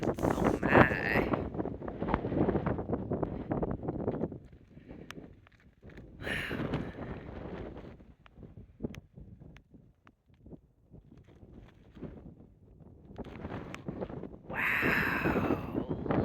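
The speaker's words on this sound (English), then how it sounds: "I wasn't kidding when I said it was windy out here" Strong wind blows outdoors across open land, buffeting the microphone in loud gusts that rise and fall, with calmer gaps between.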